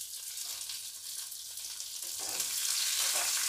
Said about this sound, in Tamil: பூண்டு கொஞ்சம் வதக்கட்டும்